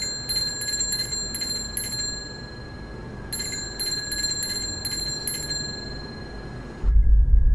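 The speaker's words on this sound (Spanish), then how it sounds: "Vamos a escuchar la campana de bicicleta." Bicycle bell simulated as it would sound on Mars rings in two bursts of rapid, repeated dings over a steady background hiss, ending with a brief low thump.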